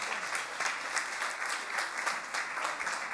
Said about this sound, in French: je voudrais que vous fassiez un petit tonnerre d'applaudissements pour les gens à la régie